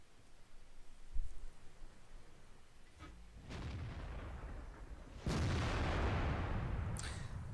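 Tank cannon fire from an E-75 in a tank battle game, with heavy booming blasts: a muffled thump early, then louder shots at about three and a half and five seconds that leave a rumbling tail, no speech.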